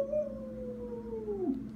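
A dog howls once in an apartment, one long, drawn-out note that slowly slides downward and tails off, faint and alone with no talking.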